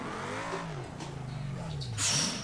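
Simulated BMW 4 Series engine revving in the BeamNG driving game, a steady mid-pitched engine note that rises and falls with throttle, with a brief louder hiss or burst near the end.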